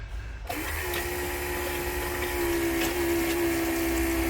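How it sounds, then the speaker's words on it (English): Steady rushing of water pouring from a tap in a VW T25 camper van, a continuous hiss with a faint hum underneath, fairly close and uninterrupted. "The water coming out is okay"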